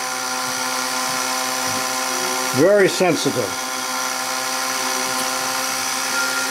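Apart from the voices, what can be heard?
drill press drilling brass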